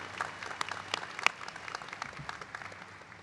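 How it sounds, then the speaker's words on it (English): An audience at a nursing and optometry commencement ceremony applauds after the national anthem, a steady patter of clapping from a crowd with a few sharper individual claps standing out. "A round of applause for that beautiful national anthem."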